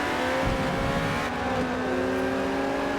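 A Ford race car in Forza Motorsport revs and accelerates through a corner, its engine whine climbing in pitch and holding loud and near, with no voices.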